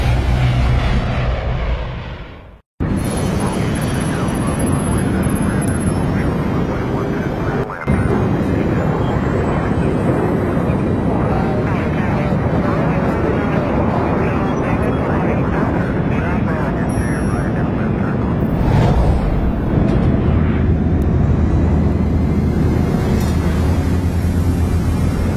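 Steady, loud drone of an airplane cabin in Splinter Cell Blacklist, a continuous engine rumble lasting throughout, with people talking over it.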